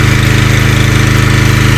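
A petrol generator engine runs just after starting, a loud, close, rapid pulsing chug that stays even and steady throughout.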